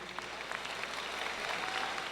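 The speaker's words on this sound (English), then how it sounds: "Let's give another round of applause for our Dubuque Senior High School band" A high school commencement audience applauds the school band and drum line. The clapping is faint and distant, a steady dense patter through the whole stretch.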